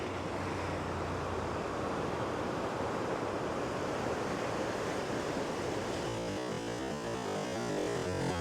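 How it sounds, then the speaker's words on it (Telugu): Sea waves crash against rocks at Uppada beach, a steady faint wash of surf mixed with wind noise, and no voices. "ఈ ఏరియాలో ఏంటంటే రాళ్ళకి తగిలి కెరటాలు ఎక్కువ వాటర్ది రోడ్డు మీదకి వస్తుంటుందండి"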